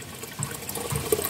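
Water flows from a hose at a mountain water source, a soft splashing and trickling stream that stays faint and fairly steady, with no talk.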